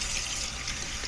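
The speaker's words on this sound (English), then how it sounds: "Okay, so now I can rinse it real quick." Steady hiss of running tap water in a kitchen sink while fish is rinsed, a continuous close stream.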